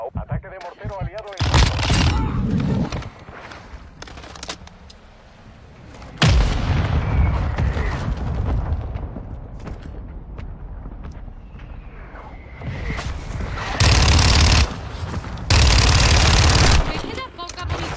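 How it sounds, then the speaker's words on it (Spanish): An allied mortar attack in a first-person shooter video game, with repeated loud booming blasts and gunfire bursts, including heavy explosions near the end, while a player talks over parts of it. "Ataque de mortero aliado"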